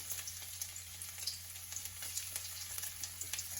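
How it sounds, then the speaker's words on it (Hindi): Chopped garlic sizzling in hot oil while cooking chicken chow mein, a steady, quiet crackling fry with small pops throughout and no voices. "अभी हम इसके अंदर थोड़ा सा चॉप गार्लिक डाल देंगे"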